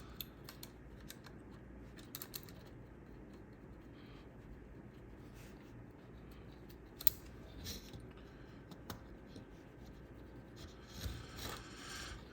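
Close, quiet rubbing and scraping while cleaning the joints, rivets and sliding parts of a classic floppy drive mechanism, with small clicks and scratchy strokes scattered over a low background hiss, no talking.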